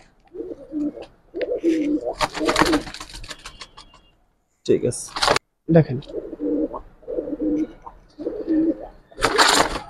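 Giribaz pigeons, silver bagha and green-necked birds, coo in repeated low throaty bursts close up, with rustling, wing noise and someone talking briefly between calls.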